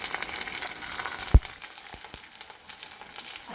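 Green chilies hitting hot oil in a pan with browning onions, giving a close crackling sizzle with one sharp pop followed by lighter spitting.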